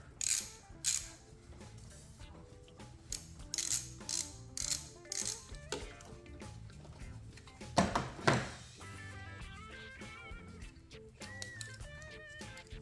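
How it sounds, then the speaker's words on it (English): A ratchet wrench with a 10mm socket works a bolt free on a Toyota Highlander while the variable valve timing solenoid is being removed. It starts with quick bursts of close clicking, followed by a squeak, then lighter mechanical ticking. "Got my 10mm socket, and there's a bolt right there."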